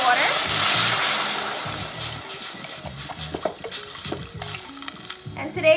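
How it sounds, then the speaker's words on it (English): Mushrooms, scallions, cilantro and onion fry in a pan with a steady, moderate sizzle, while soft clinks and scraping stirs come and go throughout. "our mushrooms are cooking down"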